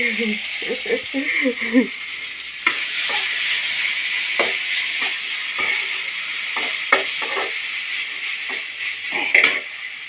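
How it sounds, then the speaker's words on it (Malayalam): Yam stir-fry sizzling in a pan with repeated scraping stir strokes, a brief voice at the start, then steady frying noise with scattered clatters. "ആ ചട്ടിയിലേക്ക് തന്നെ ചേന ഉപ്പേരിയാണ് അയാ വറവിലേക്ക് തന്നെ ഇട്ട് കൊടുത്തിട്ടുണ്ട്"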